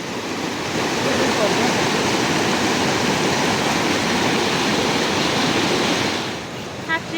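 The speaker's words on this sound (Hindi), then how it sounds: "कितना पानी का बहाव है।" A strong mountain stream rushes across a path, a loud, continuous broadband roar of flowing water heard close by with no break.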